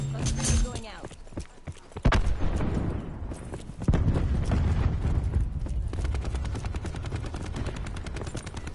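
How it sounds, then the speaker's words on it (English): A cluster grenade goes off in a Call of Duty match with a sudden loud blast, followed by a rumbling wash of scattered explosions and gunfire. A voice is heard over the chaos. "Cluster grenade going out."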